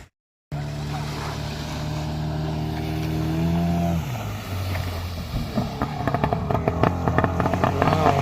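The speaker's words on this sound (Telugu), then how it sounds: "బోటింగ్ స్టార్ట్ అయింది మనోడు స్పీడ్గా కొట్టుకొని వస్తున్నాడు" A speedboat races in fast at Baina beach in Goa, its engine drone rising and holding loud and near, then dropping in pitch as it passes, followed by rough choppy splashing and engine bursts over the water.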